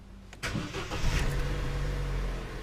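A 2013 Vauxhall Corsa D engine cranks and catches after an ignition fault is cleared, then settles into a steady, close idle with a low continuous hum and no talking.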